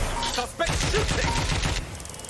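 Gunfire in Watch Dogs: Legion during a street shootout: a rapid burst of loud shots over chaotic game sound, with brief vocal calls mixed in.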